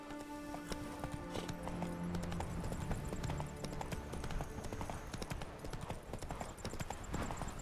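Steady clip-clop of a galloping horse, Roach, in The Witcher 3, a fast continuous hoofbeat rhythm over faint game music, quiet throughout.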